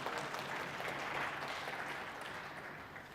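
An audience claps during a live product demonstration. Dense, even applause from a group carries steadily throughout at moderate volume, with no pauses.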